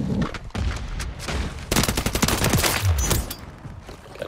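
Call of Duty MW3 gunfire, a loud stretch of rapid automatic shots in quick bursts, densest in the second half, with a few heavier booms and no speech over it.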